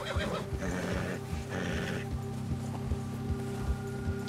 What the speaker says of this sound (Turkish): Atlar da huysuzlanıyor